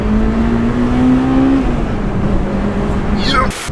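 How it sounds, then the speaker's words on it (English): A warmed-up Honda VTEC car engine drones steadily and climbs in pitch as it revs hard into VTEC, loud and close, with a voice briefly audible near the end. "I think it'd be rude not to do a little bit of VTEC now she's warm"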